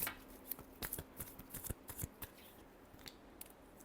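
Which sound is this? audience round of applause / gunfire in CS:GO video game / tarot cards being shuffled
tarot cards being shuffled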